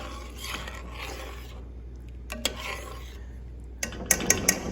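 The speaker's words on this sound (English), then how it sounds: "Just stir that around." Tomato sauce for Savannah red rice being stirred in a pot as it comes back to a boil: low bubbling and scraping, then a quick run of bright spoon clinks against the pot near the end.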